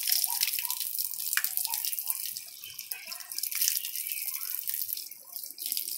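Tap water running and splashing over chickpeas being washed in a sink, a steady close trickle with uneven splashy surges.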